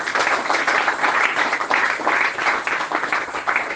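A church congregation applauds in steady, continuous clapping, loud and close throughout, with no pauses.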